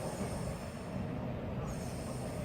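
A train departs Gillingham station on the Chatham Main Line, giving a steady, loud rolling rumble of wheels on track that continues unbroken throughout, heard close by.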